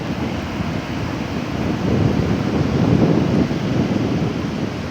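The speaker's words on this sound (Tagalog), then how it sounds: "Ang lalaki ng alon, no?" Big ocean waves breaking on a beach at General Nakar, Quezon, a loud continuous surf roar with heavy low rumble swelling midway, buffeted by microphone wind noise.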